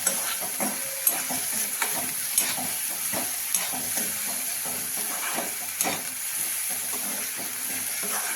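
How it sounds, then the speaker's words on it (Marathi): Ginger garlic paste frying in a pan, a soft continuous sizzle and hiss with regular light taps and scrapes of stirring throughout, no voices. "आता आपण आलं लसूण पेस्ट घालणार आहोत थोडी हे चांगलं परतून घ्यायचं"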